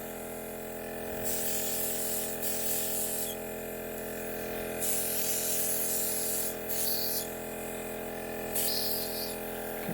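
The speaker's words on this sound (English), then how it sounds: "I can spray the entire finish if I want more of a dewy look." An airbrush spraying Rock Candy shimmer makeup hisses in several short bursts over a steady compressor hum, the sprays starting and stopping in an uneven rhythm.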